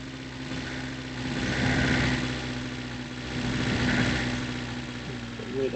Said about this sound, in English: Weird engine sounds there.